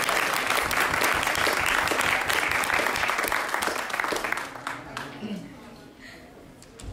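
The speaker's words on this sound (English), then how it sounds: "So please give her a big round of applause for doing that." An audience at a campaign kickoff event claps in dense, sustained applause that holds loud for several seconds and then fades out, with faint voices in the room as it dies away.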